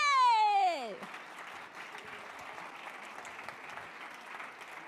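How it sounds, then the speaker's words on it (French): Conference audience applauding, a steady broadband patter of clapping that follows a brief high tonal cry or whistle at the start, then continues evenly at moderate level for several seconds. "on l'applaudit"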